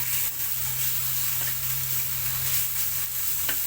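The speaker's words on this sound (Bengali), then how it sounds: "ধনিয়াটা দিয়ে একসঙ্গে ভেজে নিব।" Coriander frying in a pan gives a continuous soft sizzle with occasional light stirring taps, close and quiet.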